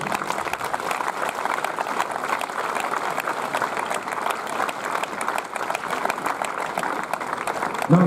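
Sustained applause from a tennis tournament crowd fills the air during a singles trophy ceremony at the Bratislava Open Challenger, a steady dense clapping that stays loud and even throughout.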